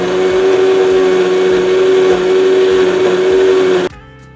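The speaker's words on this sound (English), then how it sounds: "And we grind it to a fine paste." A kitchen grinder whirs loudly and steadily while blending spices, salt and garam masala into a fine paste for chicken lababdar gravy, a constant motor drone that stops abruptly near the end.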